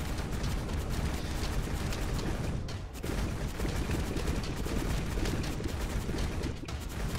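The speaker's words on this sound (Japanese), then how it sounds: "爆発すごい楽しいよこれ。" Dense, continuous barrage of explosions from explosion punches in the video game God Of Weapons, with rapid overlapping blasts and crackling bursts at steady high loudness and only one brief dip.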